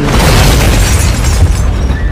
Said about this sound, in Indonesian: Lalu terjadilah ledakan.